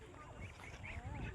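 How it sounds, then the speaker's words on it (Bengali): Ducks and geese quack together at close range beside a small water-hyacinth-choked stretch of the Ichamati river, several overlapping calls repeating in loose bursts over a steady outdoor background. "দেখেন কতগুলো হাঁস বড় বড়।"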